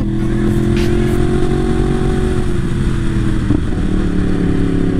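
Yamaha R1 sportbike pulling uphill in fourth gear, its engine droning steadily and loud throughout, a low strained rumble that holds nearly constant pitch with a slight dip midway, no talking over it.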